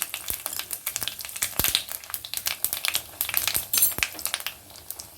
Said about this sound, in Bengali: এই তেলেই আমি রান্নাটা করব প্রথমে ফোড়ন দিচ্ছি পাঁচ ফোড়ন ওয়ান টিস্পুন দুটো তেজপাতা চারটে শুকনো লঙ্কা